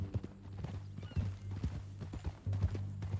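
Horse hooves clip-clop in Red Dead Redemption 2, a steady rhythmic walking gait of close, hollow knocks over a low ambient hum, with a brief neigh or snort nearby.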